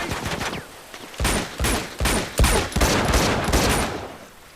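Gunfire in Uncharted 2: Among Thieves comes as a series of loud, separate bursts and shots that cluster in the middle and trail off toward the end, with no talk over them.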